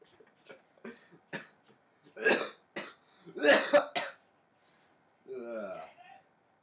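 A person coughs several times in short bursts and clears the throat, close to the microphone in an otherwise quiet room, with a brief breath between bursts.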